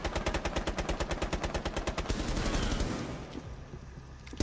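Rapid SMG fire in a video game, a dense stream of evenly spaced loud shots for about two seconds, then trailing into a continuous roar before a final burst.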